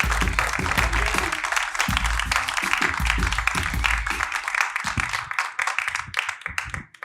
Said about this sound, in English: a big round of applause for the very funny Jesnaira Baez.